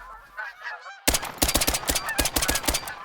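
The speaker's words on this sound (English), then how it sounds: "All these Canada geese up here." Canada geese in the hunting video game theHunter: Call of the Wild, set in the Yukon Valley, give a run of loud, repeated honks, closer and denser after a quieter opening of calls.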